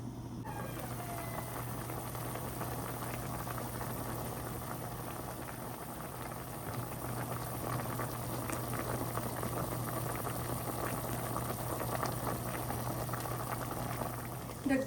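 Paksiw na bangus simmers and boils steadily in a covered pot, a continuous soft bubbling with a low steady hum underneath throughout.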